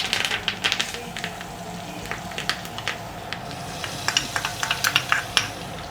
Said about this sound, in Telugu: ఇప్పుడు తాలింపు గింజలు, ఇంగువ,